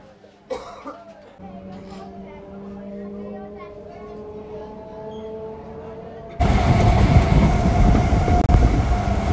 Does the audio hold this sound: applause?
no